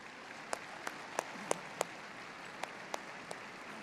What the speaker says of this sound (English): Please join me in a round of applause for our platform guests.